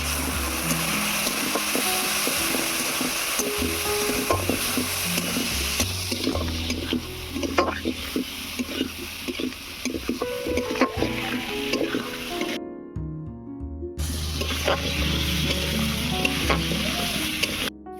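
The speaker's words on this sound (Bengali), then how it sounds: "আলুটাকে এক মিনিটের মতো কষিয়ে নিয়েছি" Potatoes coated in ground chilli, turmeric, cumin and coriander sauté in a hot pan, giving a loud, steady sizzle broken by frequent scraping stir strokes, with a brief near-silent gap toward the end.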